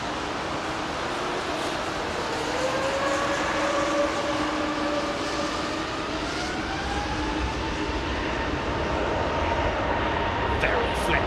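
An airliner taking off from runway 27 right at Heathrow Airport on Christmas Day, heard as a loud, continuous jet-engine roar with whining tones that slowly shift in pitch throughout.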